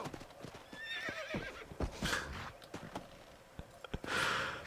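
A horse in the video game Red Dead Redemption whinnies in two quavering calls amid steady clip-clopping hooves, close and fairly loud over a soft game ambience.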